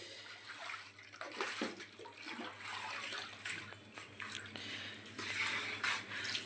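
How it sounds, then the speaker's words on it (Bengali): Warm sweet curd is poured one after another into clay pots, giving quiet, wet glugging and splashing sounds with small irregular bursts. "তারপর ঠিক এইভাবে একের পর এক ভাঁড়ের মধ্যে দই ঢেলে দিতে হবে।"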